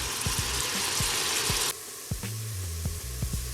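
Onions frying in oil in a pot, a steady dense sizzle that drops in loudness midway, with light clinks and knocks from a utensil against the vessel.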